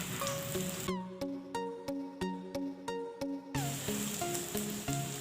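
An egg paratha sizzles in a pan while being pressed down, a soft hiss at the start and end under steady background music, which dominates the middle stretch.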